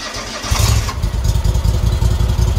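An engine that may not run, on a machine with a PTO, cranks briefly and then fires into a loud, close, throbbing idle that stays running steadily.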